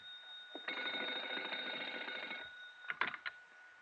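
A telephone bell rings in an old-time radio detective drama, one sustained ringing burst of about two seconds, loud and close, followed by a few short clicks of the handset with no talking.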